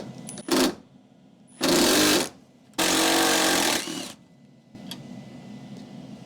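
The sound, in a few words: removing 13mm bolts from a Ram truck fender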